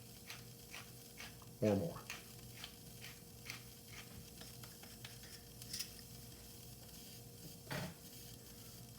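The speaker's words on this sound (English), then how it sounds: "Use freshly ground. Get yourself a grinder. I would say about 12 grinds" Whole black pepper turned in a hand pepper grinder, giving a faint series of evenly spaced dry clicks, with speech in between.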